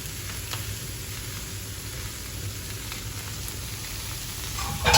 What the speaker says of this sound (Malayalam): ചെയ്ത് വെച്ച നൂഡിൽസ് നമുക്ക് ഇതിലേക്ക് ഇട്ട് കൊടുക്കാം